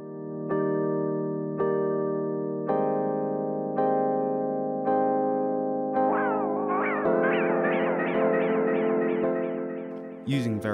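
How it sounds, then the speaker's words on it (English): Rhodes V8 electric piano played through a delay effect with short delay times and feedback, producing repeated sustained chords that ring and smear into a warbling, metallic echo tail, ending with a sharp burst. "Using very short delay times, we can emulate a spring reverb style effect."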